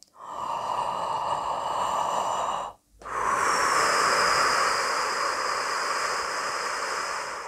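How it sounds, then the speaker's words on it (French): Deep breathing low into the belly during a singing breath demonstration: a long loud drawn-in breath, a short pause, then a long steady airy exhale, close to the microphone with no talk. "Donc, je respire par le bas."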